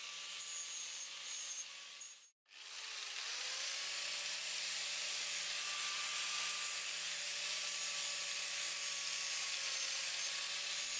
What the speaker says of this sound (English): I proceed to a sanding with a sandpaper abrasive disc, more delicate than the abrasive blade